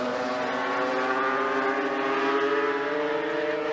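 GP500 racing motorcycles, Hondas and a Yamaha, scream along at Silverstone in 1984, a loud sustained high-revving engine howl that holds steady with slight pitch shifts as the bikes race past.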